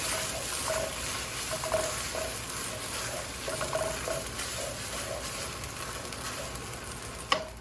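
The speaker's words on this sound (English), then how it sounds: "fry till the chilies are fried and the tomato is nicely blended with the ginger and garlic" Chilies frying with tomato, ginger and garlic in a pan, a steady close sizzle with faint stirring scrapes and a sharp clink near the end, no voices.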